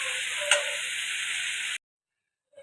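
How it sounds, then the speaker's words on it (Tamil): Loud, steady sizzling of chicken sautéing in a pan with a clink of a utensil, then it cuts off abruptly to near silence. "இப்போ நான் வதக்கிட்டு காட்டுறேங்க."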